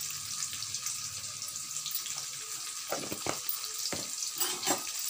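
Onion chutney mixture with salt and turmeric being stirred in a pan, giving a soft steady fry hiss with a few scraping spoon strokes and brief clatters in between, close and moderately quiet.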